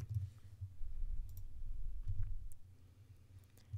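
Faint computer mouse clicks while working in Adobe InDesign, a few quiet, sharp ticks scattered over a low background hum.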